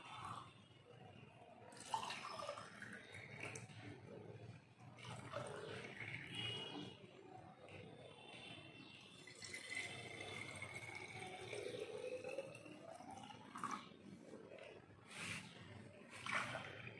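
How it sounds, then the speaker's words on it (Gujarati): Water poured from a jug into several separate containers, a steady splashing trickle that shifts in pitch as each vessel fills, running for most of the stretch at a soft, close level without speech. "હવે હું આ જગની મદદથી આમાંથી આમાં પાણી નાખું છું"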